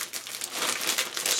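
A plastic bag holding model kit sprues is handled and opened, giving close, continuous crinkling and crumpling with no pauses for about a second and a half and no talking.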